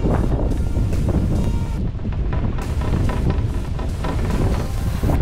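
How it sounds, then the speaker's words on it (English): Strong wind buffets the microphone outdoors near hot springs in the Eastern Sierras along California Highway 395, a continuous loud rushing roar with no one speaking. "It's a little cold and windy out."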